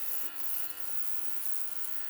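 A low-cost ultrasonic cleaning bath works on skate bearings, giving off a steady, even electric buzz that holds at a constant level throughout with no speech.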